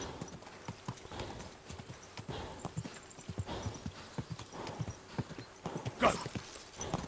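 Horse hooves clip-clopping at a steady walking pace along a path in the video game Kingdom Come Deliverance 2, close and moderately quiet, with a brief snort or whinny-like sound near the end.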